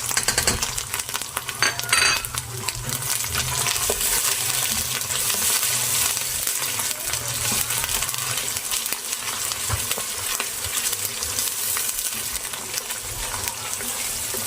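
Tomatoes with ginger-garlic paste fry in a pan for aloo gobi chicken, a continuous sizzle under repeated metallic clinks and scrapes of stirring, close and steady, no speech.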